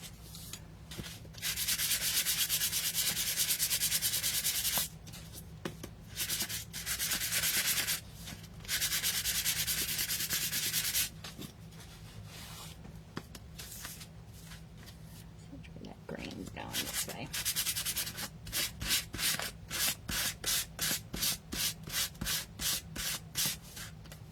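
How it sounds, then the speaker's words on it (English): Light hand sanding on a painted wooden Christmas cookie banner comes as repeated scratchy rubbing strokes, first in longer bursts, then quick regular short passes near the end, close up with talk in between. "let's go ahead and give these a light sanding"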